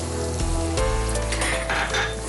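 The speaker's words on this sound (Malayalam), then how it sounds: "ഇനി നമ്മൾ കൊച്ചുള്ളി ഓരോന്നും 2ആയിട്ട് മുറിച്ചത് അതും ചേർക്കുന്നു." Halved shallots added to a pan for a prawn koottu curry, frying with a loud, steady sizzle that swells as they hit the oil, with faint stirring and no talk.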